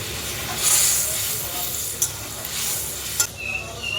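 Fried hilsa pieces dropped into a bubbling spicy curry in a pan, a soft steady hiss and sizzle with a couple of brief sharp knocks, close and moderately quiet.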